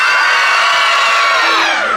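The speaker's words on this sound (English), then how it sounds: "Give me a blood-curdling scream if you've seen improvisation before." A theatre audience at an improvised comedy show lets out a loud, sustained group scream and cheer on cue, many voices together filling the room.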